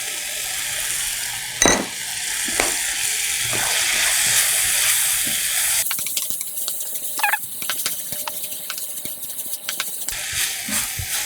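Glass noodles and vegetables stir-frying in sesame oil for Korean japchae, a steady hissing sizzle broken by utensil clinks and scraping against the pan, with the sizzle fading partway through and tapping and stirring continuing.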